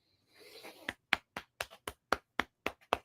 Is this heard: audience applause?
yes